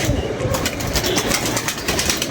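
Pigeons flying, a dense flutter of many wingbeats in quick rapid bursts over a steady outdoor background, continuous and fairly close.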